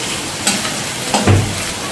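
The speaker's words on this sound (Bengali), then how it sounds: "আলুটা আমার ভাজা হয়ে এসছে, আর একটু বাকি।" Potatoes fry with a close, crackling sizzle in a pan, broken by a couple of quick scraping stirs.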